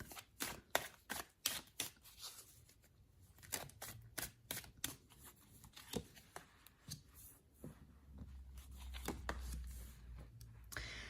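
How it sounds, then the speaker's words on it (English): Tarot cards being shuffled up close: rapid crisp riffles and flicks in bursts, with a soft low hum underneath and no talking. "let's give the cards a good shuffle"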